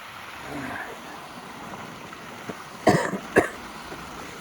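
A couple of sharp coughs stand out over steady rushing water from a nearby stream or waterfall.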